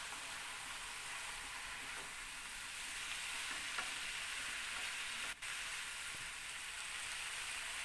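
Vegetables being stirred in a pan with chili and coriander-cumin powder give a soft, steady sizzle with faint scraping, quiet and close, with one brief clack near the end.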